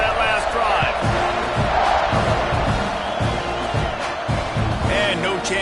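A football stadium crowd in a video game roars steadily throughout, a dense wash of cheering with no pauses.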